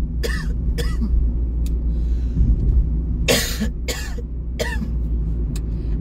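A woman coughs repeatedly, several sharp close bursts spaced across the moment over a steady low background hum, with no talking.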